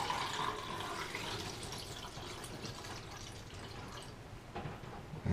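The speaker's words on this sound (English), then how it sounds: "I'm going to go ahead and start pouring." Film developer liquid poured into a plastic developing tank for two rolls of film, a steady watery trickle and splash running close and continuous for several seconds with no talk.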